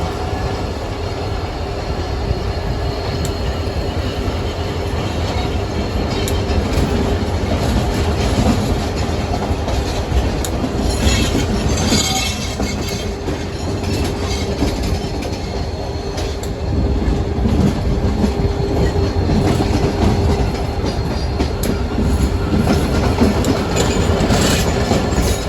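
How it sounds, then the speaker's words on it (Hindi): The Shah Latif Express passenger train runs on rails with a loud, continuous rumble and steady clickety-clack of wheels, heard up close from on board throughout. "हमारी शक्कर एक्सप्रेस ढाबी से रुक कर रवाना हो रही है।"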